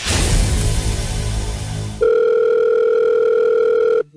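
A telephone call tone sounds while a number is being dialed. A loud rushing hiss fills the first half, then a steady, piercing electronic tone holds for about two seconds and cuts off abruptly.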